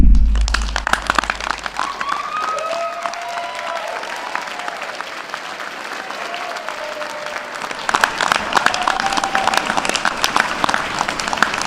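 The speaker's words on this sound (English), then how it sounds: "do a big hand of applause for your family and loved ones right now" Graduates at a college commencement ceremony applaud their families, a large crowd clapping steadily with faint cheers and whistles, swelling louder again in the final few seconds.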